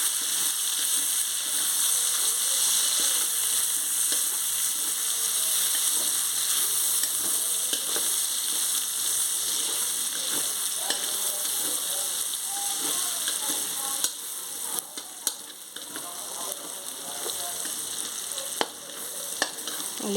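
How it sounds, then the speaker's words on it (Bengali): Garlic and chopped ginger fry in a pan, giving a loud, continuous sizzle and hiss close up, with occasional scrapes and clicks from stirring toward the end. "রসুনগুলো দিয়ে দিলাম, এবার আদা কুচি দিয়ে দিলাম।"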